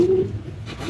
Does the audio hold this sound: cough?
no